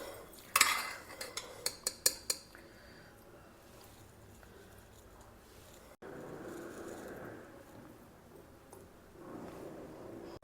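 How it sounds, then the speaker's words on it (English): Spoon and serving utensil clinking against a bowl as mint rice is transferred, a quick run of sharp close metallic taps at first, then soft scraping and shuffling quieter kitchen sounds. "I am removing the Pudina rice into my serving bowl."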